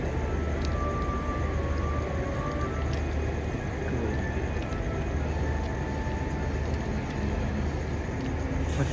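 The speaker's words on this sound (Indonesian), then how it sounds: "Jalur 3 dari arah utara melintas langsung kereta api Tawang Jaya Premium" The Tawang Jaya Premium train passes straight through a station on track 3 without stopping, a loud sustained rolling roar with rhythmic wheel clatter, continuous and close, with no talk.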